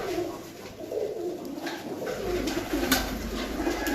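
Pigeons in a breeding loft coo steadily and overlap, a soft continuous murmur of birds close by with no talking.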